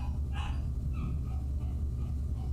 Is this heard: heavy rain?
no